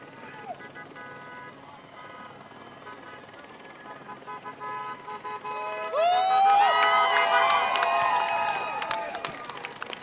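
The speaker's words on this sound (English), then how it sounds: "there are many people driving by, honking" Passing cars honk at an abortion rights protest on a busy street in Naperville: a crowd murmurs, then a cluster of loud overlapping horn toots and cheering swells near the end, with some talking underneath.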